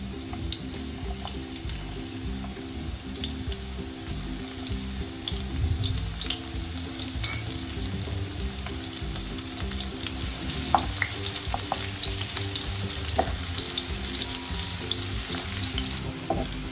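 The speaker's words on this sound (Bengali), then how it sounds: "এখানে আমি একটা একটু বড় ধরনের পেঁয়াজ কেটে নিয়েছি কুচি করে, এটা আমি তেলে দিয়ে দিব।" Chopped onion frying in a good amount of oil, a close, steady sizzle with soft stirring clicks and scrapes running continuously without any talk.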